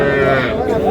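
At a traditional cattle market where heifers and calves are being sold, a cow lets out a single loud, close moo with a deep, drawn-out harmonic tone lasting under a second.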